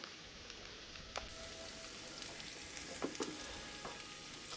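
Fresh bay leaves frying in a pot for solyanka, a faint, even crackling sizzle with a few small pops, quiet and steady.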